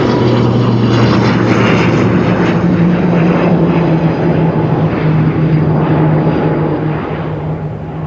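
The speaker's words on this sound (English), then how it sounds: "grab this incoming ATR." An ATR turboprop airliner coming in to land, its loud steady propeller drone and engine hum close by and easing slightly toward the end, with no voices.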